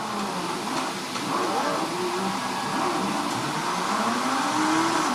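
Racing game cars roaring steadily through a corner, engine pitch rising and sweeping with tire noise, loud and continuous, on an ASUS ROG Zephyrus S GX502 laptop.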